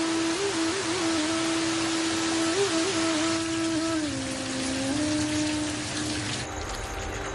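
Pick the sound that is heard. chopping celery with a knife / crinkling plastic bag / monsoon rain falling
monsoon rain falling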